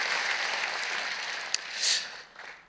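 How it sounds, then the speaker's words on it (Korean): A church congregation at a Korean Sunday worship service claps to welcome guests. The applause is moderate and fades out after about two seconds. "여러분 그의 박수로 환영하시죠."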